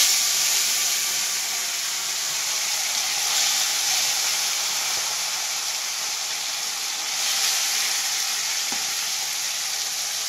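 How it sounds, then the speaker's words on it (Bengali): Pieces of rohu fish fry in hot oil in a pan, a loud, continuous bright sizzle and hiss that stays steady throughout, close up and without any talking. "এবার আমি মাছ ভাজবো। তেল গরম হয়ে গেছে, একটা একটা করে"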